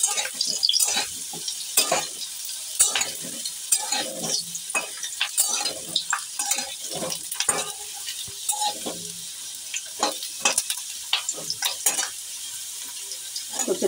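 Taro pieces stirred and fried in hot oil with chopped onion, potato and brinjal, a steady sizzle broken by frequent scraping strokes of a spatula against the pan, close and continuous throughout.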